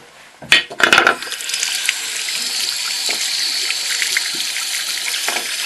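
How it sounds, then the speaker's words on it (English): Tap water streams steadily into a sink while a piece of marble is washed, with a few close clinks and splashes at the start before the flow settles into an even hiss. "I'm going to wash this piece of marble"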